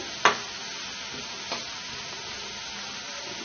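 Food fries in a pan with a faint, even sizzle. A sharp tap sounds near the start and a softer one follows about a second later. No talking.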